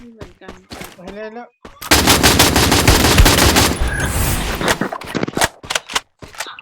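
Rapid automatic gunfire from the Free Fire shooter game bursts loudly for about two seconds, then trails into scattered shots, with excited speech before and between.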